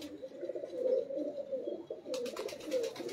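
Fancy breed pigeons coo softly in low repeated murmurs, with a brief rustle of movement near the end, no voices present.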